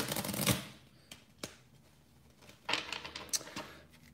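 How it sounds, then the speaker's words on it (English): A deck of playing cards is shuffled in bursts, with a loud riffle near the start and another flurry of riffling and snapping later, close and alone, separated by quiet handling. "I'm gonna shuffle it one more time"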